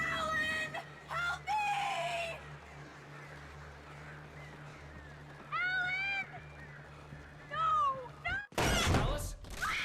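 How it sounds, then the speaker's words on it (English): Birds attacking in the video game Alan Wake give repeated shrill, rising shrieks in short bursts over a steady low hum, ending in a loud, harsh burst of noise. "didn't know the birds actually attack this early"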